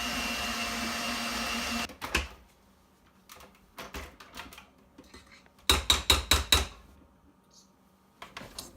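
An electric mixer on its lowest setting works flour into cookie dough, giving a steady motor whir at first, then bursts of knocking and rattling as the beaters churn the stiff dough.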